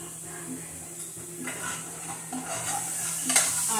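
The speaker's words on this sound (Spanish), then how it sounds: "mí me gusta guisar primero el sofrito" Sofrito with parsley and tomato sizzling in a pan while a spoon stirs and scrapes in short irregular strokes, close and moderately loud over a steady frying hiss.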